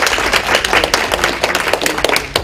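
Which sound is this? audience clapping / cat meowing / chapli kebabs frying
audience clapping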